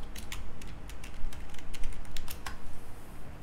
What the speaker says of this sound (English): Open the command prompt and